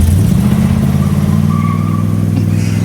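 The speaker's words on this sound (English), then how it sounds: "Let's give it a little bit of a shot, see if we can get some tire spin here." A first-generation Chevrolet Monte Carlo coupe accelerating hard in an attempt at tire spin, its V8 engine a loud, close, deep rumbling roar that rises steadily and then bogs down slightly.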